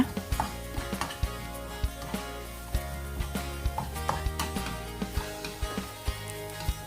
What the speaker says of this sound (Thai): ใช้ตะหลิวนะคะช่วยในการผัดหอมแดงของเราค่ะ